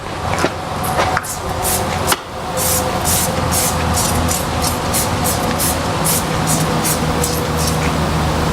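Wheel cleaner is sprayed onto a car wheel in a quick series of sharp, hissing trigger spritzes, repeated at a steady rhythm over a background of low outdoor noise.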